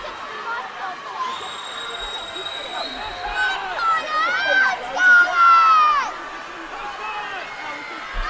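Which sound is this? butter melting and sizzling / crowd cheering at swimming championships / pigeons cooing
crowd cheering at swimming championships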